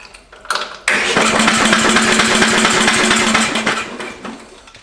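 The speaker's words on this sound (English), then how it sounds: "I just crank the engine over about 3 seconds at a time." A Case 644 engine cranks over with its spark plug removed, a fast, even chugging whir that runs for about three seconds after a brief click and then winds down.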